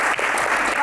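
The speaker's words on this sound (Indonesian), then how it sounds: "Tepuk tangan." Audience applause at a Q&A talk show, a dense, steady wash of clapping from a large crowd that fills the whole short moment without a break.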